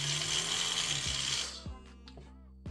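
An old Oral-B electric toothbrush buzzes loudly with a harsh motorized whine, then cuts off, leaving a few soft knocks and clicks.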